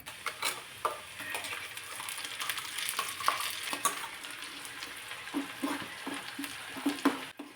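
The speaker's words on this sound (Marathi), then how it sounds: "यामध्ये हे जे टोमॅटोचं वाटण बनवलं होतं ते वाटण घालायचं" Tomato paste stirred into onions frying for stuffed bitter gourd, a steady sizzle with irregular scraping and stirring knocks throughout, close and moderately loud, no talking.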